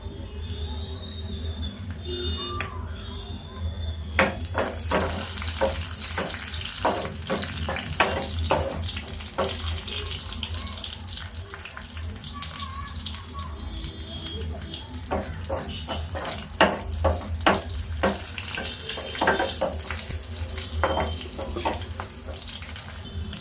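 Garlic dropped into hot oil for a sambar tempering gives off a steady close hiss with scattered sharp pops and crackles, with no talking over it.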